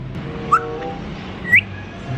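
Two short, clear bird whistles about a second apart, bright and fairly close, over a low steady background hum.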